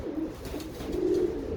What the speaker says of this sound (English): This is a homing pigeon.